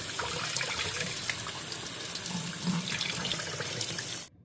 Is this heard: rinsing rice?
yes